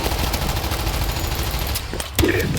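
Dense, steady gunfire fills a World War Z co-op match, a continuous roar of rapid shots with a sharper burst near the end, heard without talk.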